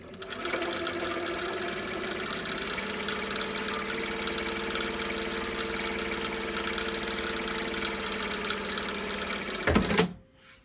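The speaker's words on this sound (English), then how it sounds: "for the first pass, you're going to sew a 1/4 inch or 5 millimeters from the edge" A sewing machine runs a long-stitch seam a quarter inch from the fabric edge, a steady continuous mechanical whir at close range that holds for about ten seconds, then stops with a brief clatter.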